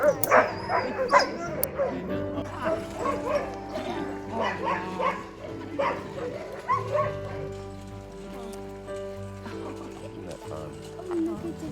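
Sled dogs at the Denali National Park kennels bark and yip in overlapping bursts, with some whimpering, close and lively, while a person talks underneath.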